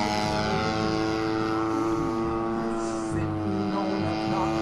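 Radio-controlled Edge model airplane on its maiden flight at a fun fly event, its electric propeller motor giving a steady buzzing whine that holds fairly even at moderate distance.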